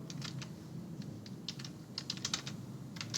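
Quick, light keystrokes patter on a computer keyboard, close and fairly quiet, in short irregular bursts over a low room hum, with no voices.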